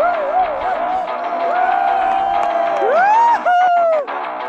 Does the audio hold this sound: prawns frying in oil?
no